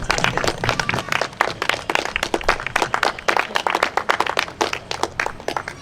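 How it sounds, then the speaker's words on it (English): A crowd gives the walking guides a round of applause after the Jessami to Kohima walk: sustained, dense clapping, fairly close, running steadily throughout. "can I just ask actually for a round of applause, please, for them"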